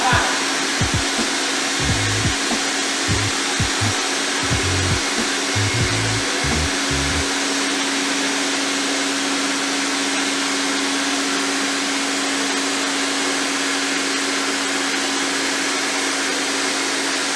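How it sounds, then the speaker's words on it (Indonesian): A carpet shampooing machine runs steadily with its vacuum switched on, a constant loud whirring drone that follows a few brief low thumps at the start. "Kemudian yang terakhir itu adalah tekan tombol vacuum button."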